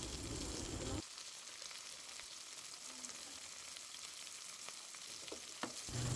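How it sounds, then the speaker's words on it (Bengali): Chopped onions frying in hot oil in a pan for a jute-leaf dish, a soft steady sizzle heard close up after a short louder burst at the start, no voices. "প্রথম দিকে হালকা করে পেঁয়াজটাকে ভেজে নিতে হবে"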